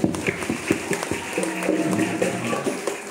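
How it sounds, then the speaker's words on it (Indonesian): Elementary schoolchildren at an Isra' Mi'raj religious gathering clap together, a brief burst of scattered, fairly loud applause with some distinct individual claps, close by in a room. "Oke, tepuk tangan untuk kita semuanya."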